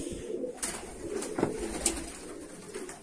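Pigeons coo inside a coop, soft repeated calls with a few sharper bird notes scattered through a steady low background, fairly close and without any talk.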